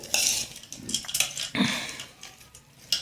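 Farsan is mixed into bhel in a metal pot, making rattling, scraping clatter in uneven bursts, with sharper spoon-on-metal knocks near the start and end, close by and with no talk.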